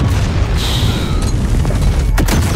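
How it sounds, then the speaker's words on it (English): Rocket and grenade blasts pile up in a 10-vs-10 Hardpoint shooter match at Hackney Yard, a dense, loud wash of booms and bursts with sharper cracks near the end and no talk. "It's rockets, grenades everywhere."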